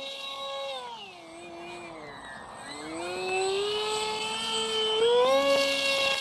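A Modster Easy Trainer 1280 V2 RC airplane running on a two-cell LiPo battery flies aerobatic loops. Its electric motor whines steadily, the pitch dipping and climbing with each manoeuvre, fairly close and alone.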